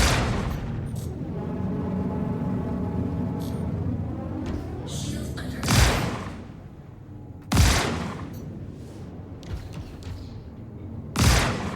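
Shotgun blasts in the space game Star Citizen, three heavy booming shots spaced a couple of seconds apart over a constant droning engine hum and whine.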